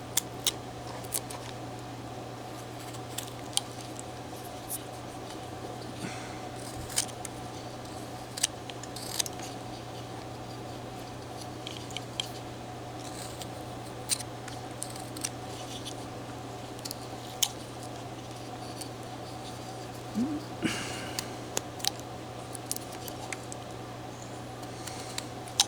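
A knife carves the shoulders of a wooden coat-wearing figure for an immigrant wedding scene, giving faint, sparse little cutting clicks over a steady low hum.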